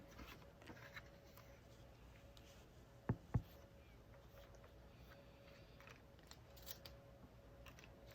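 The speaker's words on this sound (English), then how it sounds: "I'll trim that down so that that white on white die cut will not be going over the edge of the paper" Paper being trimmed with scissors for a handmade card: two crisp, quick snips close together midway through, otherwise a quiet room with faint background hiss.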